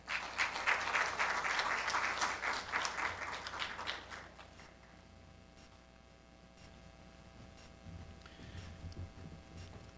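Audience applause at a 60th anniversary founding ceremony rises loud and dense, then fades after a few seconds into a low hum with scattered faint claps.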